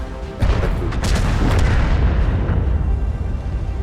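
Artillery fire in the tank game World of Tanks: a loud, close boom that rolls into a long sustained rumble, with no talk over it.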